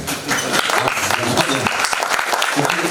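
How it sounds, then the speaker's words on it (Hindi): An audience claps through a theatre play performance, a dense steady patter of applause while someone talks loudly over it. "ये आपके लिए ताली अपने आप के लिए है, जज्बे के लिए ताली है।"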